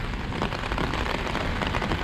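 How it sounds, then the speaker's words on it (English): Heavy rain pours steadily onto a city street in Hongdae, Seoul, a dense, continuous hiss close by with no talk. "Pouring rain out."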